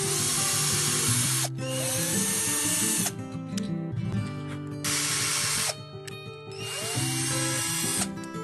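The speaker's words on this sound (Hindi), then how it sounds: "2 होल्स ड्रिल हो गए। अब सेम होल्स को इसमें ड्रिल करने के लिए हम इसे बेस के ऊपर प्लेस करेंगे।" Power drill boring holes with a bit slightly thinner than the screws, for a homemade vacuum cleaner build; loud, close whine in several bursts separated by brief pauses.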